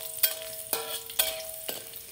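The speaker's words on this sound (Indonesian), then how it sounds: "Nah sambil nunggu dingin ya perbawangan yang kita goreng tadi gengs" Garlic and shallots fry in a pan with a quiet, steady sizzle. Stirring scrapes come in about three distinct strokes, with faint tones in the background.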